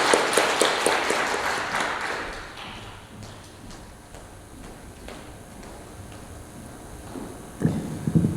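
A Sunday church congregation claps to welcome a departing evangelist, a burst of applause loudest at the start that fades after about three seconds into a quiet hall with scattered small sounds.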